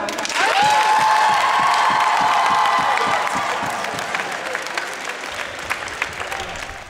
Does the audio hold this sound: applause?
yes